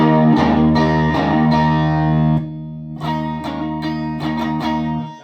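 Electric guitar played through a TopHat Rialto Reverb 1x12 combo amp with reverb on, ringing chords in two bursts separated by a short lull, loud and close with no voices.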